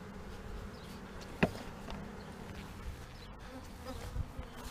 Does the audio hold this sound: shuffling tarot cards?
no